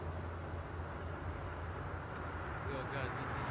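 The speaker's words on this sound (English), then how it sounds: "Above us is an airplane." A fixed-wing airplane passes overhead in Chandler, Arizona, a steady broadband roar with low rumble that holds constant throughout, distant and even in level.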